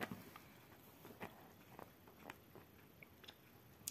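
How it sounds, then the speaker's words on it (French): Someone crunches on a raw carrot, giving a series of faint, crisp bites and chewing crackles spread irregularly over a few seconds in a quiet room. "Du coup, je viens de croquer une carotte."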